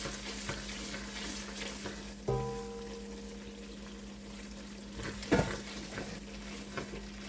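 A spoon stirs red chili powder, coriander-cumin powder and garam masala into hot oil in a pan for spinach and paneer curry: a soft steady sizzle with a low hum, broken by two sharp utensil clanks against the pan.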